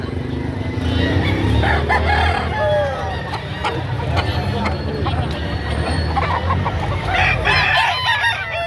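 Roosters crow repeatedly and chickens cluck loudly at a busy poultry market in Padre Garcia, Batangas, with overlapping calls near and far, under people talking and bargaining throughout.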